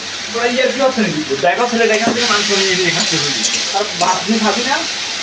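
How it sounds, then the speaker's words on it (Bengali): Tomatoes sautéing in a pan for chicken kosha, a steady hiss and sizzle running under a woman's continuous speech. "ফ্রেশ করে রাখা টমেটোগুলো দিয়ে দেবো, দিয়ে এটা ভালো করে কষিয়ে নেব।"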